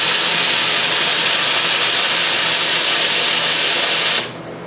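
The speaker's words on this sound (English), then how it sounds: "We're gonna purge our steam boiler." An espresso machine's steam wand purges its steam boiler in a loud, steady broadband hiss lasting about four seconds, then cuts off sharply into near quiet.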